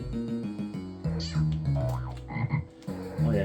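Croaking from a frog creature in a retro PC platform game run on a Gateway 2000 4DX2-66, repeated synthesized croaks over game music, loud and close with no talk.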